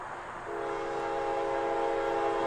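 A K5 steam locomotive's horn in Trainz Railroad Simulator 2019 sounds a steady, sustained chime tone that starts abruptly and holds loud and close to the end.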